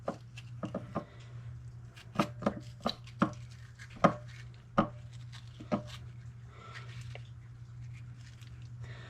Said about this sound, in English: we're going to hollow this out to kind of like a grapefruit